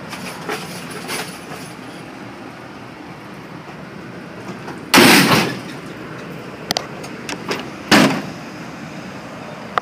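Side door of a 2001 Dodge Ram Van 3500 Maxivan cargo van with faulty operation, with two loud, heavy sliding rumbles and clunks separated by a few seconds, plus scattered rattles and clicks.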